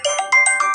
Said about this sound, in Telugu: ఈ ఫోన్ ఇప్పుడే రావాలా,